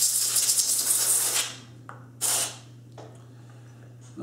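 Compressed air blasting leftover solvent out of a Smith & Wesson M&P pistol and its slide, a loud close hiss that cuts off, then a second short burst and a faint third puff.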